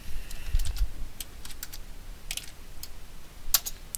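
A command is typed on a computer keyboard, with a scattered run of light, crisp key taps and a few pauses, close and clear over a quiet background.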